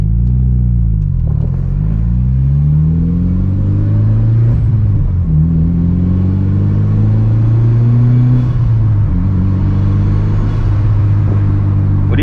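Mitsubishi Evo with a muffler delete, engine droning loud and close with a deep, rumbling exhaust that rises and falls through several revving sweeps and a steady throaty idle, no voices.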